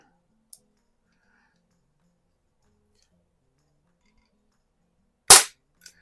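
A single sharp, loud crack from a Umarex Quackenbush air rifle firing, followed by a faint tick, set in near silence with a tiny click a few seconds earlier.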